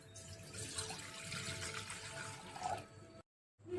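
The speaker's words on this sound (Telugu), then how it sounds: "ఒక బౌల్ తీసుకొని అందులో వాటర్ వేసుకోవాలి" Water runs and splashes steadily as it is poured into a bowl, then stops abruptly before a brief final trickle.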